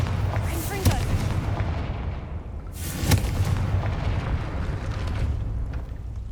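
Booming spell explosions from the Bombarda and Confringo spells in the video game Hogwarts Legacy, two heavy blasts with rumbling tails over constant loud background noise.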